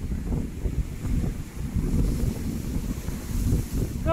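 A northeasterly wind blows across choppy sea at a fishing pier, buffeting the microphone in steady gusty roars over the wash of waves, with no voices.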